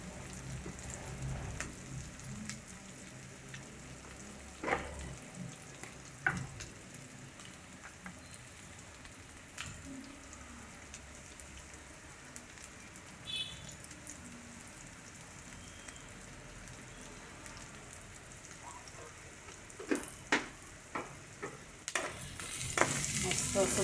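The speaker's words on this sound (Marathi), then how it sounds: "कांदा फ्राय व्हायला लागला तोपर्यंत थोडीशी हळद टाकू" Onion for poha fries in a pan, a long, steady soft sizzle with scattered spatula scrapes and knocks against the metal, the pattering fizz rising slightly toward the end, with no talk.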